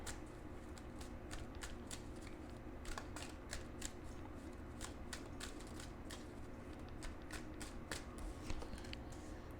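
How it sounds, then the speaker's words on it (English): Tarot cards are shuffled by hand in a rapid run of crisp riffling snaps and slides, close and fairly quiet, over a steady low background hum. "Let me shuffle these a little bit better."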